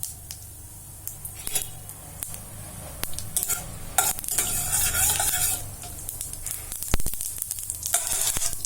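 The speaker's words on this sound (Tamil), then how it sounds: "கடுகு பொரிஞ்சிருச்சு" Mustard seeds, cumin and urad dal spluttering in hot oil, a dense crackling sizzle with quick pops and occasional utensil scrapes, close and continuous with no talking.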